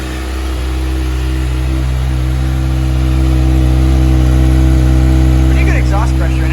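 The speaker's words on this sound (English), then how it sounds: "This is what a bone stock 636 sounds like" A stock Kawasaki ZX-6R 636 sport motorcycle with no aftermarket exhaust runs loud and close, its engine droning steadily and swelling as the revs climb, with faint voices in the background.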